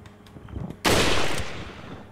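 A sharp, loud burst of gunfire erupts in Resident Evil 4 gameplay, a single blast with a long decaying tail after a few quieter thuds and clicks beforehand.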